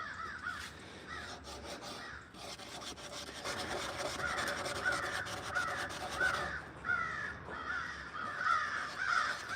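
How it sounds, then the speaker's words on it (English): Crows caw loudly and repeatedly in woodland, harsh calls overlapping one another, with a steady scraping rasp of wood being carved running underneath throughout. "Sound like the birds and the squirrels are having a disagreement."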